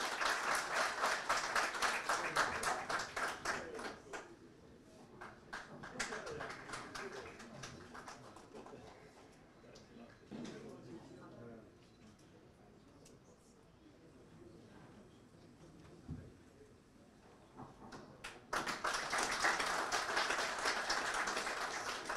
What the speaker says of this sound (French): Je crois que ça mérite des applaudissements de votre part